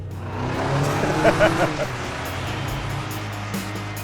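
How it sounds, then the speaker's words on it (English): A 2026 Toyota Tacoma TRD Off-Road's turbo four-cylinder engine revs hard and growls under steady road noise, with a brief louder burst near the middle. "while I prefer a V6 over a turbo 4-cylinder, this one is responsive and makes some angry, but admittedly cool noises"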